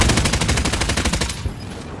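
Rapid automatic gunfire in the Warzone video game, with a loud, evenly spaced burst of shots for over a second that then stops and leaves a short quiet tail.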